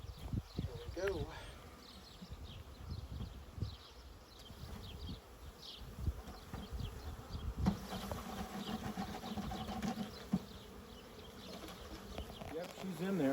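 Honeybees from a newly installed 2022 backyard package hum and buzz close by, a constant droning swarm with individual bees zipping past the microphone while a person talks intermittently over the buzzing.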